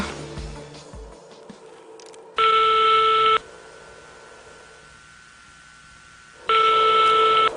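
A telephone call rings unanswered: two loud, steady electronic ring bursts about four seconds apart over a constant background hiss.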